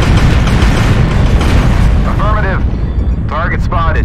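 Artillery strike explosions in a video game rumble as a dense, loud, continuous wash of booms with no clear gaps, and synthetic voice-like callouts cut in briefly near the end.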